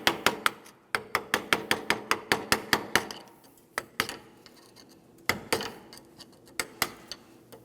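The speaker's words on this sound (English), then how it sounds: "You can use a hammer and chisel or scraper," A hammer drives a chisel to knock off an old front brake backing plate on a 2003-2008 Toyota Matrix, ringing out in fast, evenly spaced metallic strikes with short pauses between runs, close and sharp.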